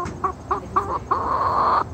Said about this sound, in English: It's a furry chicken.